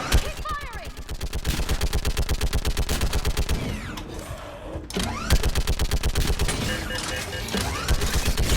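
Rapid automatic gunfire in the video game Mass Effect 3, with dense repeated bursts that keep going with only a brief lull partway through.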